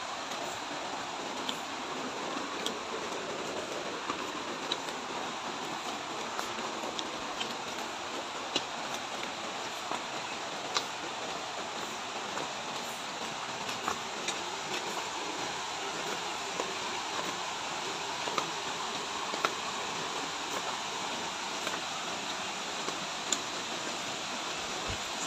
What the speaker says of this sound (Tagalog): Nakikinig ko na nga yung tunog ng tubig.